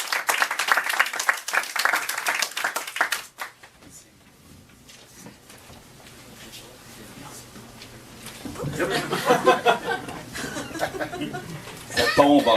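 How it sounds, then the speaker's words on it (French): Audience applause for poet Yvon d'Anjou at an evening poetry reading: a burst of clapping, then a quieter stretch with a murmuring voice and a few chuckles, before a second swell of clapping and laughter. "On l'applaudit encore pour une deuxième fois"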